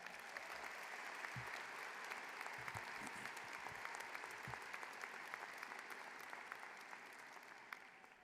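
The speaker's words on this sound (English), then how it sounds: "Please give her another round of applause." Sustained applause from a large university commencement audience, a steady dense wash of clapping that holds throughout and tapers slightly at the end, heard from a distance in a big hall.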